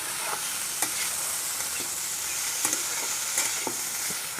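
Bitter gourd with salt and turmeric being stirred in a hot pan: a steady, close sizzle with occasional sharp scrapes and taps of the spatula, and no voices.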